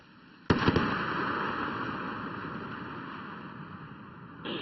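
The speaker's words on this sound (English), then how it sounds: "And there are the twin sonic booms." Twin sonic booms from a returning SpaceX Falcon first stage on its way to Landing Zone 1 hit as two sharp, close-spaced cracks, followed by a long, loud rumbling roar that slowly fades.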